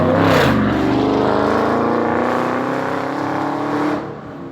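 Car engine revving hard, a loud sustained high-rpm roar with rising harmonics held for several seconds before easing off at the end, close and alone without talk.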